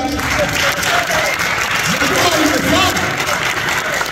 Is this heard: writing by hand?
no